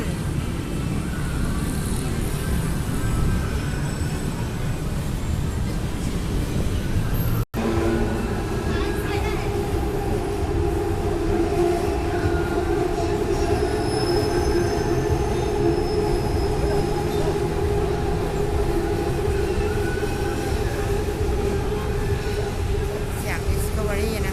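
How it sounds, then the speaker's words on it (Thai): An elevated BTS Skytrain rumbles past nearby in Bangkok with a steady roar, wheels squealing and grinding on the rails, the noise lasting the entire stretch with a brief cut partway. "เดี๋ยวเรารอดูรถไฟกัน"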